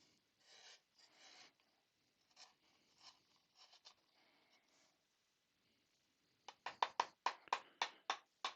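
Shallow woodcarving gouge shaving ridges off a wooden Dr Who clock carving, with scattered soft scraping cuts followed by a run of sharper, louder rhythmic strokes close by.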